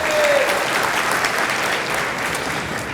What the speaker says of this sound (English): Give these two outstanding dynamic brothers a round of applause.